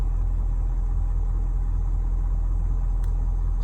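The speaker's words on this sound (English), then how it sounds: "I've had it idling. I'm gonna turn the engine off now." A Ford 6.7 Powerstroke diesel truck idles with a steady, low rumbling drone, heard from inside the cab with no talk over it.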